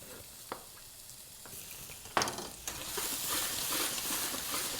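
Shallots hitting a hot pan, a couple of faint taps and then a sudden burst of sizzling that keeps growing into a steady hiss, with no talking.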